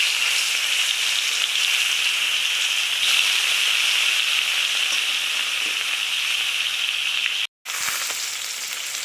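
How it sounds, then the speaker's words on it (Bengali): Rohu fish pieces rubbed with salt and turmeric fry in hot oil in a wok, giving a steady, close sizzle with a brief break near the end. "কড়াতে তেল দিয়েছি, তেলও গরম হয়ে গেছে। এবার নুন হলুদ মাখানো মাছগুলো ভেজে নেব।"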